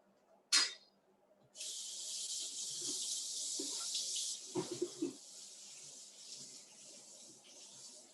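Water runs from a kitchen tap while a cutting board and knife are washed, a steady hiss that follows a brief splash, with soft clunks and handling sounds underneath and no talk.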